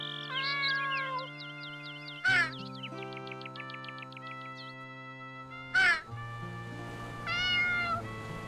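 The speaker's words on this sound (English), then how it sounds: "So many cats." Several cats in the video game Unterwegs in Düsterburg meow repeatedly in overlapping, tonal calls over a steady sustained game music drone, with two sharp louder bursts breaking in.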